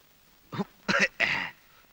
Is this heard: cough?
yes